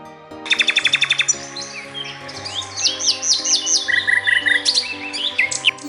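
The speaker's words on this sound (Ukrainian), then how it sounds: "Цю пташку називають соловей. Або ласкаво в народі кажуть соловейко." A nightingale sings close by in rapid trills and repeated chirps, phrases varying in pitch, with a faint musical backdrop.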